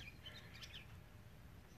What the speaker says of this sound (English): I just love hearing these birds. They're so chattery in the morning,